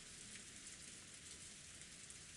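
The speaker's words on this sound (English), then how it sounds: "The cold air and the monotonous sound of the rain were comforting." Rain falls steadily, a soft, monotonous hiss that stays constant and faint throughout, with no other sounds.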